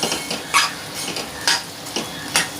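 A vegetable dish being stirred in a pan, a steady sizzle with three or four rhythmic spoon scrapes close by and no voices.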